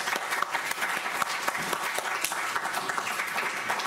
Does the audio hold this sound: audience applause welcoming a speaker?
yes